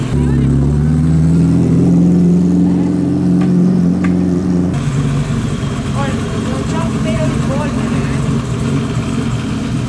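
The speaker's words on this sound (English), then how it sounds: "Gorgeous Vignale V8." Vignale V8 car at the Concorso d'Eleganza Villa d'Este, a deep engine note holding steady and then dropping away midway, followed by broader mechanical noise and background activity, loud and close.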